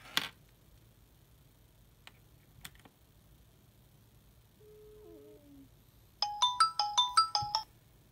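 A Samsung Galaxy Note 10 rings during a call test, a short electronic ringtone pattern of rapid repeated tones sounding loud and close for about two seconds near the end after a quiet stretch with faint ticks.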